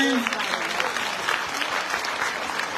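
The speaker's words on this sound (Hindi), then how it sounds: "सो जोरदार तालियां हो जाए।" Enthusiastic audience applause at a product presentation, a dense burst of clapping starting loud and holding steady across the short stretch, with a brief trace of voice at the very start.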